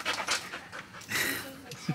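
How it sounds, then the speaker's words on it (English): A four-month-old puppy pants in quick, close bursts of breathy, rhythmic huffs, with a voice talking around it. "That's Humpty's puppy. He's only 4 months old."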